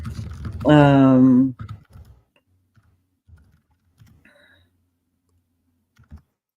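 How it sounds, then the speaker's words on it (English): A noisy computer keyboard gives scattered, sharp key clicks, fairly close and sparse, after a short loud voiced sound at the start. "I'm sorry if you guys can hear me click clacking. I'm on a different keyboard today and it makes a lot of noise."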